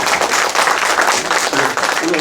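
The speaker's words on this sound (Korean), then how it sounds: "그럼 박수 부탁드리겠습니다" Audience applause at the launch ceremony of a citizens' coalition in Sangju, a steady dense wash of clapping filling the hall for a couple of seconds, with a voice faintly audible over it near the end.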